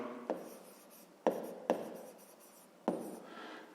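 Pen or pencil writing out a fifth-grade math solution on paper, heard as close, quiet scratchy strokes with four sharper taps where new strokes start, in a hushed room with no talk.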